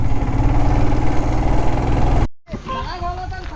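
A motorcycle engine idles with a steady low rumble, then cuts off abruptly, followed by a moment of quiet and a voice speaking.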